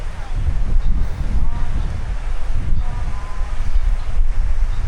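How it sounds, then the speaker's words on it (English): Strong wind buffets the microphone on a beach at Playa del Carmen, a loud steady low roar with gusty swells throughout and no clear voices. "The wind is a little strong"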